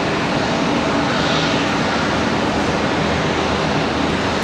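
An Amazon aircraft flying at Charlotte Douglas airport gives a loud, continuous broadband engine roar that holds steady throughout, close by and with no voices over it.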